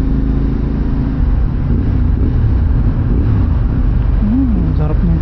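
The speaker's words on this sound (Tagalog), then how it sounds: "ngayon maririnig mo na talaga yung exhaust" A CF Moto 450MT motorcycle fitted with a new exhaust, riding with a loud, steady engine rumble close by under wind buffeting, and a person talking over it.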